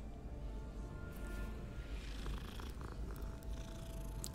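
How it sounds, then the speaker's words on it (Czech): A cat being petted in the video game Hogwarts Legacy purrs in a steady, low rumbling loop, faint and continuous with no talk. "Tady máme kočičku, kterou si můžeme pohladit."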